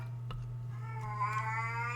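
A faint, drawn-out cat meow rises toward the end, heard alone over a constant low hum.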